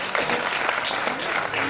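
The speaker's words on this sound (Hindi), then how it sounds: "एक बार तालियां मनीषा जी के" An audience applauding a Kathak dancer, dense, loud, continuous clapping from a crowd filling the whole short stretch.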